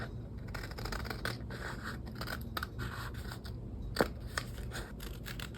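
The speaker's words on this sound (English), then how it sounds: "I'm going to cut this out using scissors" Scissors snip through blue masking tape on a 1/350 scale USS Enterprise refit model, a run of close, quiet cuts with one sharper click standing out amid steady background hiss.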